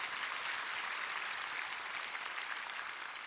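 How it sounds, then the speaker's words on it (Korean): An audience at a prayer meeting claps together in a sustained, even round of applause, a bright crackle of many hands that stays steady and fairly loud from start to finish. "박수 한번 쳐주세요"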